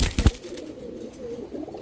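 A soft, low coo from a female pigeon rumbles briefly after a couple of quick knocks, close and quiet, with no voices.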